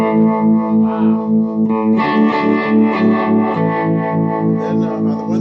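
Electric guitar through a Tube Screamer overdrive pedal plays a chunky distorted riff, starting with a held chord then rhythmic strummed chords, loud and close with a warm gritty crunch.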